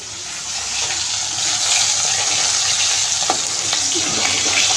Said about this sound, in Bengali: ও এদিকে মাছগুলো এখন ভাজা চলছে।